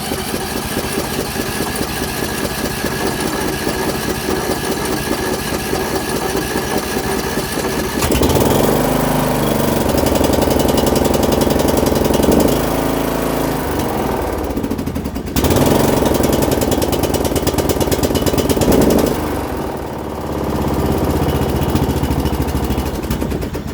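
Mastercraft 17.5HP lawn tractor engine with a 42-inch deck, cold-started on full choke after its fuel was drained, cranking then catching and running loudly up close, its steady rumble surging and dipping a few times as it settles.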